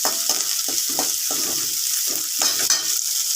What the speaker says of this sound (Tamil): சால்ட் நல்லா வதக்கிடலாம் நல்லா வதங்கட்டும்